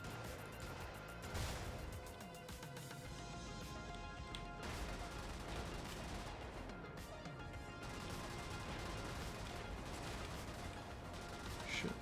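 Gun firing in Brigador, repeated blasts and crashing impacts over a dense, steady wash of game noise, moderately loud throughout with a few sharper hits.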